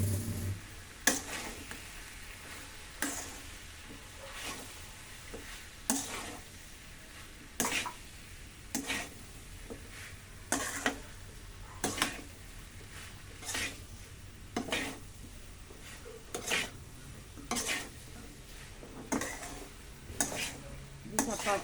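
Fried cauliflower for gobi manchurian tossed in a pan with spatula strokes that scrape and clank at regular intervals over a soft background sizzle, faint and close.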